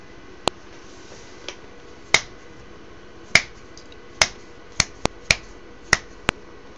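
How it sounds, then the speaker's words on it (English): Roughly ten sharp, close finger snaps, spaced irregularly over several seconds against a quiet room, with no talking. "I can snap my fingers"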